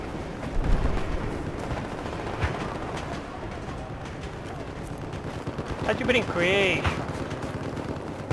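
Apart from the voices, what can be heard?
gunfire in the video game Battlefield 4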